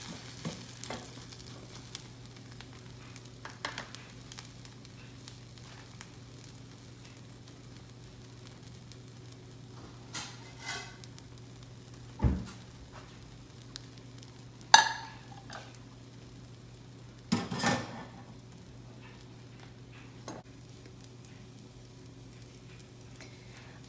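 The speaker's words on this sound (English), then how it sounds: "We can scrape kind of the bottom of the pan so the eggs start to cook." A spatula scrapes beaten eggs around a pan for a veggie omelet, a handful of sharp scraping strokes spaced out over a low steady kitchen hum, quiet and close.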